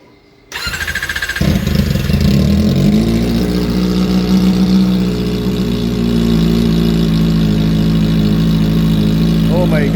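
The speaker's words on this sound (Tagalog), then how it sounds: "ang ating first sound check ng ZX4RR na walang canister" Kawasaki ZX-4RR motorcycle with the exhaust canister removed starts up and revs, a loud raw unmuffled engine roar that holds steady and close for nearly the whole clip after a short silent opening.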